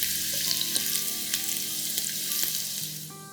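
Finely chopped red onions sauteing in a pan for a home-style curry, giving a steady close sizzle and crackle with a few soft stirring clicks throughout, no voices.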